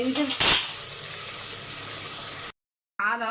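Okra and onion sauté in a pan with a soft, steady sizzle and a brief clatter of stirring. A voice talks over it at the start and again after a short silent gap.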